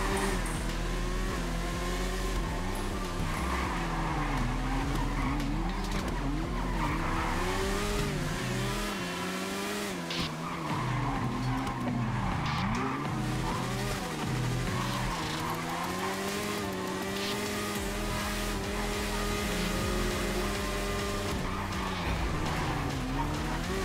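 A motorcycle races in GTA 5, its engine whining and revving continuously with shifting pitch, layered with tire squeals and other race traffic, loud and unbroken throughout.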